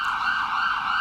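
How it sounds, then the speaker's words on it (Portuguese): A siren sound effect plays on a TV news program as a loud, steady, high electronic wail. No voices are heard. "coloca a sirene aí pra gente. Coloca a sirene."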